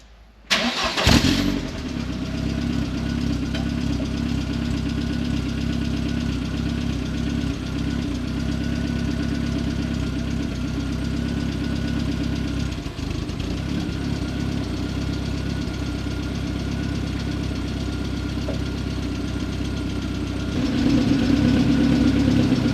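A Mk1 Ford Fiesta idles steadily through a modified exhaust, a low, continuous rumble after a quick start-up, close to the microphone and running alone, with a slight rise in revs near the end.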